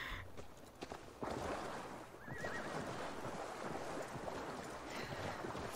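A horse in Assassin's Creed Valhalla whinnies and neighs amid game ambience, with wind and faint hoof clatter beneath, steady and moderately loud throughout.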